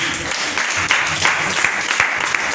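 A church congregation breaking into sustained applause during a sermon, a dense wash of clapping from a crowd that continues evenly throughout.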